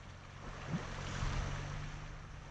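A Ford Bronco Badlands Sasquatch off-roader drives through cold water on a trail, making a steady rushing, sloshing wash over a low engine rumble that swells slightly midway. No one speaks.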